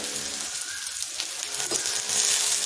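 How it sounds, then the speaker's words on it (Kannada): Bajji dosa roasts on a pan with oil, giving a soft, steady close sizzle with faint crackles and light scraping throughout, no voices. "ಇನ್ನೊಂದು ಕಡೆ ರೋಸ್ಟ್ ಮಾಡ್ತಾ ಇದ್ದೀನಿ ಮತ್ತು ಇವಾಗ ಇಲ್ಲೇನು ಎಣ್ಣೆ ಹಾಕ್ಕೋಬಹುದು"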